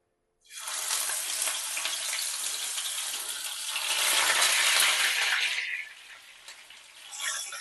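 Cauliflower pieces drop into hot white cooking oil and deep-fry with a loud, dense, steady sizzle that starts abruptly, swells midway and then eases slightly, close up with no talking.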